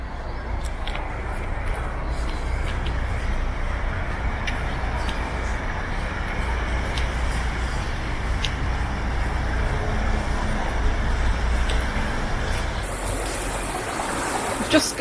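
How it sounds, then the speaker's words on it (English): Water rushes through opened paddles as a canal lock empties beside a narrowboat, a steady loud churning roar that holds unbroken throughout, with a brief higher hiss near the end. "We've just opened the paddles on the gate to empty the lock"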